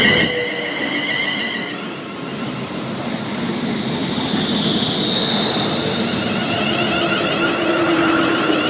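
A London North Western Railway train arrives at a station, a loud, continuous rumble of wheels and carriages with high squealing tones from the rails rising toward the end.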